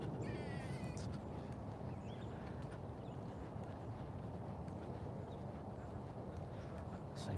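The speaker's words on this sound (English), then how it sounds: "There's lots of birds right now." Birds call faintly outdoors, with a brief burst of chirping at the start followed by scattered, distant calls over a soft, steady ambient background.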